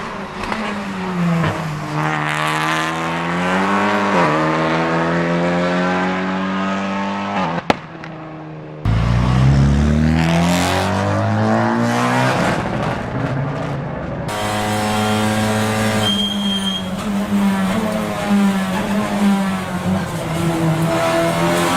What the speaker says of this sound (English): it produces a distinct mechanical scream that climbs perfectly alongside the turbocharged VTEC engine note, followed by a crisp electronic ignition cut on the straightaways